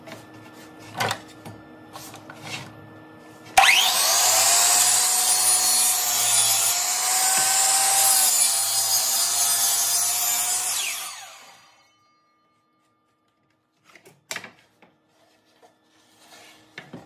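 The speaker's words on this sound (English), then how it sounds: "I will use the miter saw to make this cut." A miter saw cuts through a wood board for a cabinet. It starts with a sudden loud whine, grinds steadily through the cut for about eight seconds, then spins down to silence, followed by a few faint knocks.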